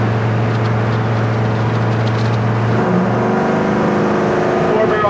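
A 1967 Chevy C20 truck engine drones steadily while driving, then its four-barrel carburetor kicks in and the engine note rises and changes pitch.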